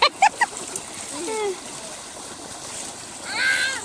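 A few quick sharp splashes at the start, then gentle water movement with children's voices chattering over it and another splash near the end.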